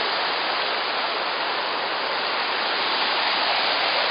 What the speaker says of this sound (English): There's cold water rushing by.